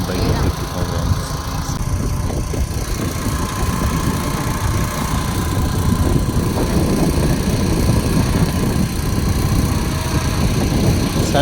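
A motorbike carrying two riders runs at steady speed on a road, its engine giving a loud, continuous drone with rushing wind roughness throughout, and voices can be heard under the noise.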